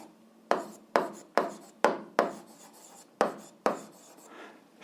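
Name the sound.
writing a formula by hand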